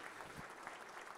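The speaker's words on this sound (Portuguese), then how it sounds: "Gostaria de uma salva de palmas mais uma vez a todos eles." Applause for honorees at a formal legislative merit medal ceremony, a brief, steady patter of clapping from an audience, fairly faint and distant.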